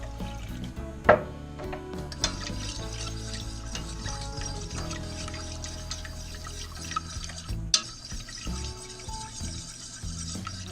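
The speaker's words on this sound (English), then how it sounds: "Keep adding the milk here." Milk is poured and stirred into a thickening cheese sauce base for old-fashioned baked macaroni and cheese, a continuous liquid swish with occasional clinks of a utensil against the pan, no talking.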